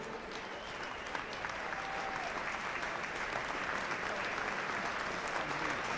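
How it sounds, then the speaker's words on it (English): Football crowd at an Oxford United match applauding a substituted player, a thin, steady, distant patter of clapping across the stands, continuous and fairly subdued. "pathetic applause for Greg Coombs"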